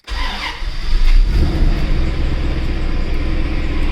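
A Chevrolet C4 Corvette engine cranks and catches, surging briefly as it fires, then settles into a steady, loud idle close by with no talking.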